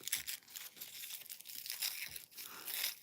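Paper and plastic wrapping from a craft subscription box being torn and crinkled open in a quiet room, a steady rustling with a couple of sharper tears.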